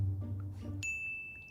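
A single bright ding chime rings out clearly and sustains briefly after a low rumble, a short, close electronic bell tone with no talk.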